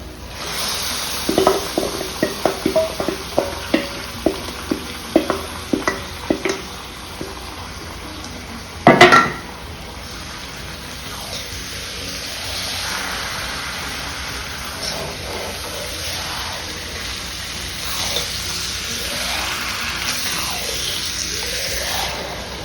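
Marinated chicken is tipped into a pan of browned onions, giving a run of sharp clatters and stirring knocks, one loud thud, then a steady close sizzle of frying.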